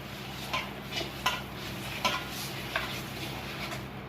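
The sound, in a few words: mixing yogurt into chicken biryani masala in a pot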